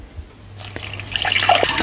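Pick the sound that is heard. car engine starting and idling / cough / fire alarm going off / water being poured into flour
water being poured into flour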